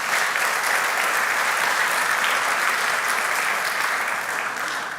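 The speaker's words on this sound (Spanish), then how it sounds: "Dale ese fuerte aplauso a Dios." Loud, sustained applause from a church congregation fills the room at an even level for the whole stretch, with no break in the dense clapping and only a slight fade at the very end.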